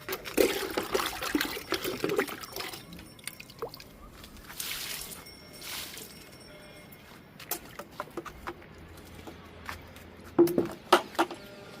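Liquid poured onto a large indoor potted plant: splashing, trickling water soaking into soil, with dribbles and soft squishing, loudest at the start and in short bursts later, moderately close and without voices.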